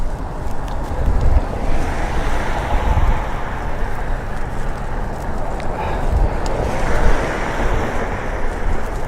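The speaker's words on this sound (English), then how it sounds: "I'm going to slow it down so there's not so much wind" Loud, steady wind roars and buffets across the microphone while moving fast outdoors on the way to work, a dense unbroken rush throughout.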